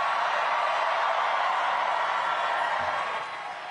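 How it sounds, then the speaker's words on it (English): A large crowd at a New York City mayoral victory party applauds and cheers in a dense, continuous roar of clapping that begins easing off toward the end. "please give them all a round of applause"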